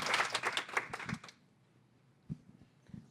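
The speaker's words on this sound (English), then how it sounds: "let's give her a big round of applause." A short burst of clapping from a startup-pitch audience lasts just over a second, then stops abruptly, leaving near silence with a couple of faint knocks afterward.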